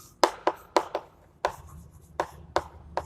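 Chalk or a marker taps and strokes across a board during a chemistry lesson, in about eight sharp, separate strikes with short pauses between them.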